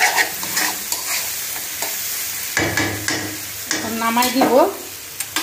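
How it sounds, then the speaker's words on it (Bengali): Prawns being stir-fried (bhuna) in a home kitchen pan for breakfast: a steady close sizzle with repeated spatula scrapes and stirring, and a brief voice near the end. "এদিক দিয়ে চিংড়ি মাছ ভুনা করে নিলাম।"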